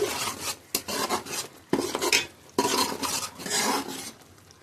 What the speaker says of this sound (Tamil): நம்ம எல்லாம் பச்சையாக அரைச்சி நல்லா இப்போ எண்ணெயில் இதுலேயே நம்ம வந்து ஒரு ரெண்டு நிமிஷம் பச்சை வாசம் போகிற வரைக்கும் வணக்கிக்க வேண்டியது